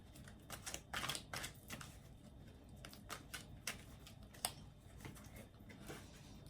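Tarot cards being shuffled by hand: faint, quick papery flicks and soft riffling clicks in uneven bursts, close by in a quiet room with no talking.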